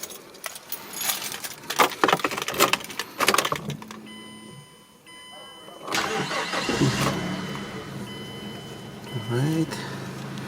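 Keys jangle and rustle, then a 2007 Mazda 3 engine cranks and catches, settling into a steady idle close by.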